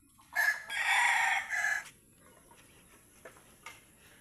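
A single rooster crows loudly and close by, a long drawn-out call, followed by quieter faint ticking and scattered small sounds.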